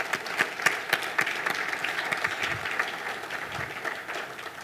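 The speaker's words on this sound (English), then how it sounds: "I think that we need to give them a very good round of applause." An audience at an adaptation-week conference claps for keynote speakers, a moderately loud spread of clapping with some distinct individual claps standing out near the start, steady throughout with no speech.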